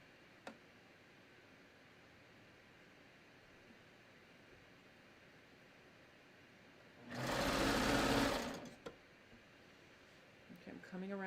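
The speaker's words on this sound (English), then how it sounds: "I'm just stretching the knit strip as I sew around the hem of the sleeve." Home sewing machine stitching a stretched knit strip around a sleeve hem, a steady whirring burst of about two seconds that stops, then a few light clicks, close up and alone in a quiet room.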